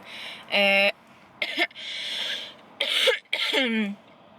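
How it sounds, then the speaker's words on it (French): Several harsh coughs and throat-clearing bursts in separate fits, loud and close, with short pauses between them. "Ça fait 1 mois et demi que je tousse de même"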